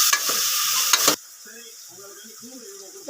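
Mint and coriander leaves are sautéed in a pan while cooking a mutton dish. A close, bright sizzle with stirring scrapes plays for about a second, then drops to a faint frying hiss with soft clinks.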